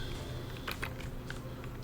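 Quiet typing on a computer keyboard, a scatter of soft key clicks over a steady low background hum, faint and close.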